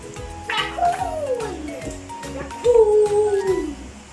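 A cat meow from a talking animal puzzle toy: two drawn-out electronic meows, one early and a louder one later, sounding clear and close.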